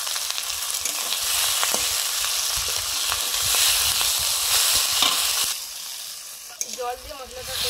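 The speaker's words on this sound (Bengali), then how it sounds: "জল দিয়ে মশলাটা কষে নিচ্ছি।" Ginger paste and red chili powder fry with a splash of water for a village-style chicken curry, giving a loud, continuous sizzle that eases and turns softer near the end.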